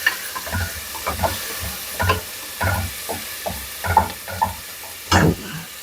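Onions fry in a pan with a soft background sizzle, broken by repeated rhythmic scraping bursts from stirring about once a second, close and clear.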